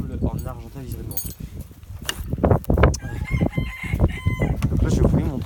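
Chickens and a rooster of the black Israeli Argente breed, close by, with loud repeated crowing and clucking over a stretch of about five seconds, mixed with some background clatter.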